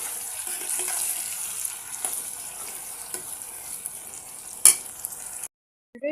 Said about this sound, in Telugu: ఇప్పుడు దీన్నంతా ఒకసారి కలబెట్టేసి మూత పెట్టేసి టమాటా అనేది మగ్గించుకోండి